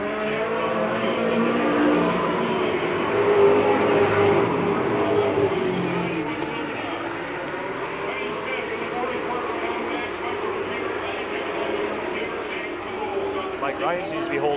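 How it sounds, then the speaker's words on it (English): MASCAR stock cars race around a track in a 1993 heat, engines roaring together in a steady loud drone that rises and falls as the cars pass, with a race commentator talking over them. "Neck and neck in the backstretch, but Terry takes the lead in the corner."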